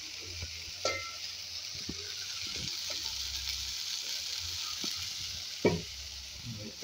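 Bombil fish fry in a pan with garlic cloves, a low, steady sizzle broken by scattered clinks and a couple of sharper knocks as the pieces are turned. No voices.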